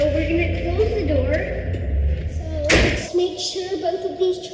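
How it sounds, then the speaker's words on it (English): The door of a small training aircraft is pulled shut during a preflight check, giving a single sharp thud midway through. Voices and a low background hum come before and after it. "So we're gonna close the door."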